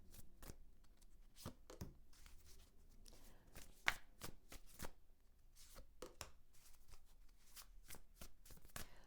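Tarot cards shuffled and drawn at close range, a run of quick papery riffles and sharp flicks with a louder snap partway through, no talking.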